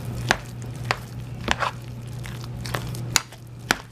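A spoon works milk and whipping cream into a bowl of mashed potatoes for loaded mashed potatoes. Sparse, sharp clinks and soft squishy thuds sound over a steady low hum, with no talking.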